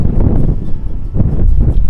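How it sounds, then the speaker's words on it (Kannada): Strong wind buffets the microphone on Madhugiri hill in Karnataka, with a loud, steady low roar that swells and gusts throughout, with no voices. "ಸಿಕ್ಕಾಪಟ್ಟೆ ಗಾಳಿ ಅಂತ ಬೀಸ್ತಿದೆ"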